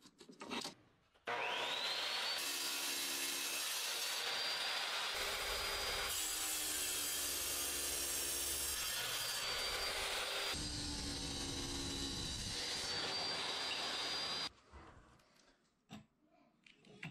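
Stone shower wall tile being cut with a power saw, a loud high whining grind starting abruptly and running for about thirteen seconds with shifts in pitch as the blade bites, then stopping.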